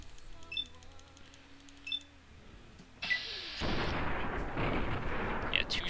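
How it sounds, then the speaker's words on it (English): Point-blank gunfire from a weapon in Fallout: New Vegas: a loud, sharp blast about halfway through, followed by a sustained roaring wash of noise that carries to the end, with faint game ambience beforehand. "two shots and she's down"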